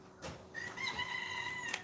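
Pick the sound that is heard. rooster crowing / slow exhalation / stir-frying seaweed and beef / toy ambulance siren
rooster crowing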